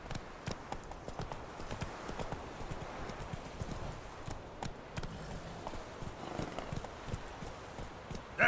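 Roach the horse in The Witcher 3 walks with steady clip-clop hoofbeats in a regular rhythm, moderately close over a soft ambient bed, with no talking.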